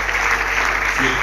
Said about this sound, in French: Est-ce qu'on peut m'aider à acclamer Roland?